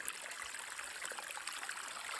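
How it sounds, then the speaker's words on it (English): Mountain spring water trickles steadily beside a hiking trail in Hell's Canyon, a soft continuous babble that stays faint and even throughout with no voices. "Nothing like fresh mountain spring water."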